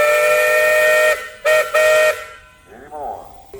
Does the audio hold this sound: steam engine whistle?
yes